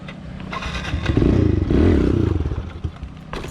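A Kawasaki KLX 110L motorcycle revs and runs close by during a footbrake wheelie, its engine rising into a loud sustained drone, then dropping to a choppy idle amid clattering and scraping.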